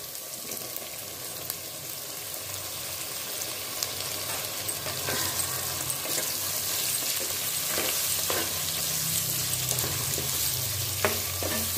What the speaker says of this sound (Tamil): தக்காளியும் கொஞ்ச நேரம் வதங்கட்டும்.